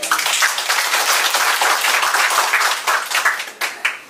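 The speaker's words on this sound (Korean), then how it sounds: "박수 한번 쳐주세요." An audience claps at a product presentation, a dense burst of applause that holds steady and then thins into a few scattered claps near the end.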